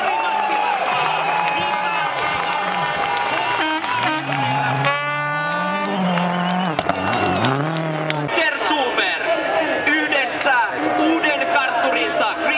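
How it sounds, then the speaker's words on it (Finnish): Spectators at the 2010 Rally Finland Laajavuori stage cheer and shout loudly as a crowd while an announcer's voice rings over them, with sustained sung-out calls and a noisy roar throughout. "Arvoisa yleisö, ääntä, huutoa, Suomen lippua ylös."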